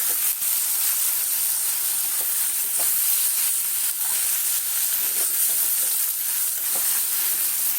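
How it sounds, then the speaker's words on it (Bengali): Potato and onion sizzle in a hot pan with tomato and slit green chili added, a loud steady frying hiss with occasional soft stirring clicks and no talk. "পেঁয়াজ আলুটা আমি কিছুটা ছাঁতলে নিয়ে তারপরে টমেটো দিচ্ছি আর লঙ্কা দিচ্ছি"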